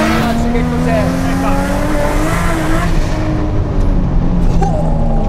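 A Nissan 350Z fitted with a swapped 1200 hp 2JZ engine revs loudly up close, its engine pitch rising and falling in sweeping tones with a faint tire squeal.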